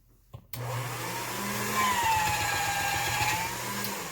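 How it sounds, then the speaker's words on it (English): A motorized pasta machine rolls out polymer clay: after a click, a steady mechanical whine and hum runs continuously, close and fairly loud, with no speech. "I'm going to roll it back out in my pasta machine"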